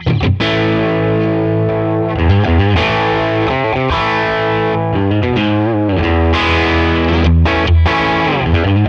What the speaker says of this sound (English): We're going to try to do a clean thing, a distorted thing, and everything in between.